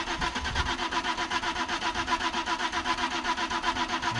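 A car engine cranks without catching while its fuel pump is disconnected. The starter churns in a steady, even rhythm of fast repeated pulses throughout, fairly close, with no voices.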